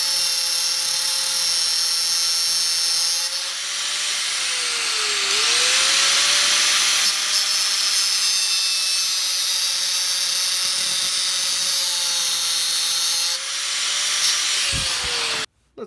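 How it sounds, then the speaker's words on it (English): A high, steady power-tool whine cuts off a protruding stud on a 1992 Toyota Corolla DX Wagon, holding one pitch with brief dips under load, close and continuous for about fifteen seconds before stopping abruptly. "I will chop that stud off to make it a little bit more presentable"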